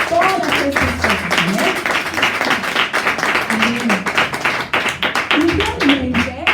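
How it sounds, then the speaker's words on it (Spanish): A church congregation at a Spanish-language sermon claps loudly in praise, a quick, rhythmic patter of hand claps with voices calling out over it throughout. "le pueden dar un fuerte aplauso al Señor"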